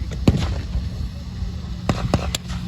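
Simulated artillery fire at a WW2 battle reenactment during Tankfest 2024: sharp, loud pyrotechnic blasts, one single bang and then a quick cluster of three, outdoors over faint background noise.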